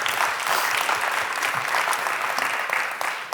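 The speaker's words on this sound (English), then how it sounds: "Let's give Dennis a round of applause." An awards-ceremony audience applauds steadily, a dense and continuous wash of many hands clapping together at full strength, easing off slightly near the end.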